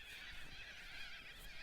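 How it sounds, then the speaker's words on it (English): Birds calling at sunrise beside the Frankland River, a faint distant chorus of honking, goose-like calls over a steady hiss, brief and with no voices. "You can hear all the birds."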